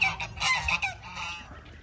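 A farmyard bird lets out a few loud, harsh, honking squawks close by, goose-like in tone, from guinea fowl calling on a farm, with no talk.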